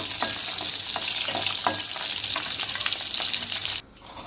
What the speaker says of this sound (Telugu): ఫ్రై అయిన వెంటనే నెక్స్ట్ గార్లిక్ లైట్గా ఫ్రై చేసుకొని